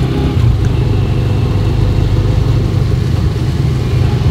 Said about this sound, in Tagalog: So, sumakay na lang kami ulit ng tricycle.